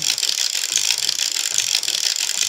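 A Passap Tricofit knitting machine making chain stitches, giving a steady close mechanical ratcheting and clicking of carriage and gears, continuous and fairly loud with no voices.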